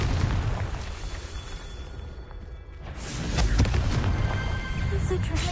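Confringo fire-spell blasts explode in Hogwarts Legacy, booming bursts that swell and rumble across the stretch, with a voice speaking over them.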